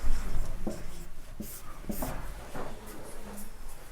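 Chalk or marker scratches across a classroom board in short, rhythmic strokes with brief pauses, fairly close and quiet.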